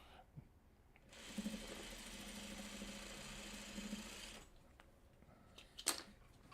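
A sewing machine stitches quilt block pieces together in one steady, close run of about three seconds, with quiet handling noise before and after.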